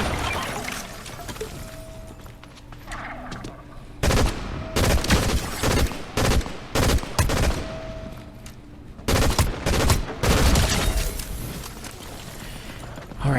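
Bursts of automatic gunfire crackle in a Fortnite match, loud and close, coming in clustered volleys separated by short gaps, with no talk over them.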